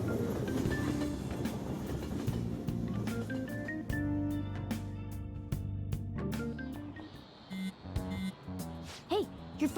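Train ride in the Persona 5 Royal video game, with a steady rumbling rolling bed and rhythmic clicking over rail joints under layered game music, thinning out near the end.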